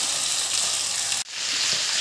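Potatoes and cauliflower fry in oil over a medium flame for a wedding-style aloo gobi, a loud continuous sizzle that briefly drops out for an instant midway before resuming. No one speaks.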